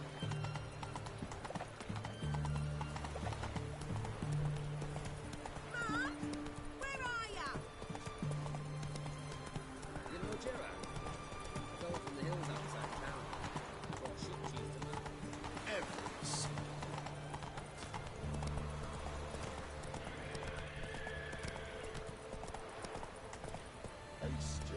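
Galloping hooves of the horse Roach in The Witcher 3: Wild Hunt, a steady clip-clop with occasional whinnies, running continuously under game music and spoken dialogue.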